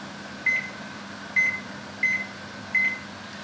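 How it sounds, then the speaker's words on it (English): A timer beeps while raw chicken is pressure canned and the canner vents steam in a kitchen: four short, fairly faint electronic beeps spaced irregularly over a steady low hum of background noise. "I need to turn on the timer for 10 minutes"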